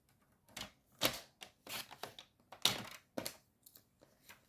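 Scissors cutting paper for a moodboard: a series of short, crisp snips and rustles at an uneven pace, close and quiet, with no talk.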